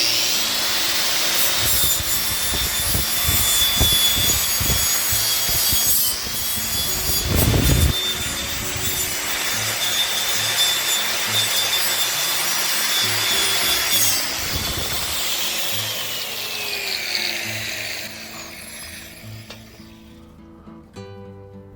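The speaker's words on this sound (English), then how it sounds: "To attack the rust on the rest of the frame, I'm using this wire wheel on my angle grinder." A wire wheel on an angle grinder scrubs rust off a metal scaffold frame, giving a loud, steady abrasive whir with gritty scraping bursts for about eighteen seconds before spinning down and fading out.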